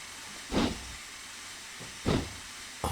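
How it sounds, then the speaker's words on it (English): A steam locomotive in the Train Simulator Classic Somerset & Dorset Joint Railway vents steam in three short hissing bursts over a quiet, steady background, the last one cut off at the end. "We make some steam and we're on our way."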